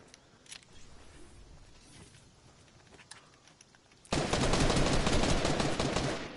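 Burst of rapid gunfire from an online multiplayer shooter on PS4 erupts loudly in the final two seconds, following a quieter stretch of faint game ambience.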